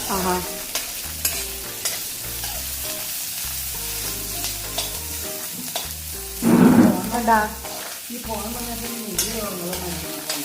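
Fish curry ingredients sautéing in a pan, with steady stirring and a soft sizzle under music throughout, and a louder burst of scraping and frying midway.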